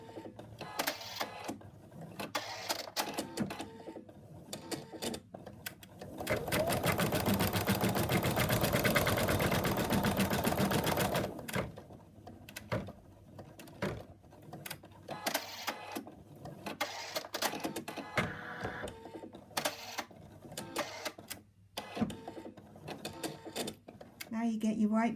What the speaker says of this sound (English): Color 2 is going to stitch the outline of the eyes.